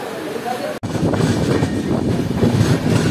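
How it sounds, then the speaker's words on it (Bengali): The Digha–Howrah Tamralipta Express running three hours late rumbles steadily across the Kolaghat railway bridge, a continuous loud roar of wheels and carriages after a brief sharp cut at the start. "দীঘা হাওড়া তাম্রলিপ্ত এক্সপ্রেস তার নির্ধারিত সময় থেকে 3 ঘন্টা লেটে চলার পর এখন ক্রস করছে কোলাঘাট রেলওয়ে ব্রিজ"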